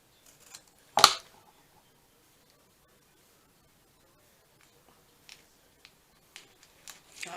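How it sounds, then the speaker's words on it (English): Scissors cut paper or fabric into a tag shape, giving one sharp, close snip followed by a handful of faint, scattered clicks and rustles in near silence. "let's cut this in tag shape"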